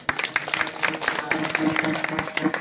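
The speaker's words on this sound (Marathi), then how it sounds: "त्याच्यासाठी एकदा टाळी वाजली." A crowd applauding at an ashram gathering, dense rapid clapping from many hands that stays fairly even throughout, with some voices mixed in.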